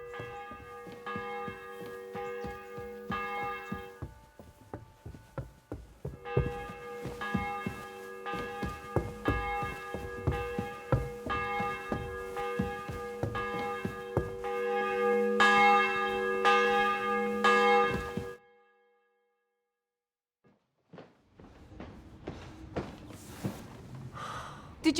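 In the video game Kingdom Come: Deliverance 2, a church bell tolls in a long, rapid series of clanging strokes that build in loudness and then stop abruptly, leaving near silence and a few faint breathy sounds.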